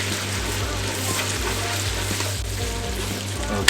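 Onions and garlic fry in a pan while being stirred, giving a loud, steady sizzle broken by the repeated scrape of a utensil moving through the pan, with no voices.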